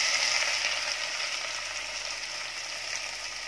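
Garlic, ginger, green chili and onion fry in a pan, a steady broad sizzle that stays loud and even throughout with no voices.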